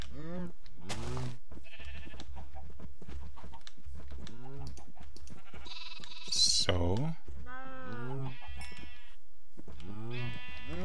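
Sheep in Minecraft bleat several times in short wavering calls, spread across the moment, with someone talking between them and faint key clicks underneath.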